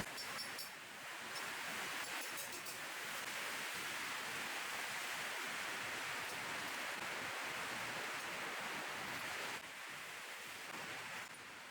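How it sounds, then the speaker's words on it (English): Steady rain falling outside during work on a Jeep Cherokee XJ, a continuous soft broadband hiss with faint patters, fairly quiet and unbroken throughout, with no talking. "So sorry about the rain noise"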